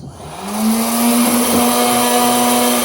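A popcorn machine whirs up and settles into a steady, loud hum with a constant pitch, running continuously close by.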